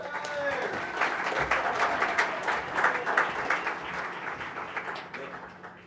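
Warm applause from the audience at the Vator Splash LA 2014 startup competition greets the emcee: dense, steady clapping that fills the whole stretch, with a few voices mixed into the crowd noise.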